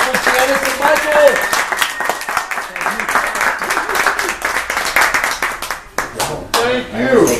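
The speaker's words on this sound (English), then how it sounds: "Big round of applause for Janice and Michael." A conference audience in Sacramento gives a loud, lively round of applause after a presentation on measuring client costs, with scattered voices and cheers mixed into the clapping.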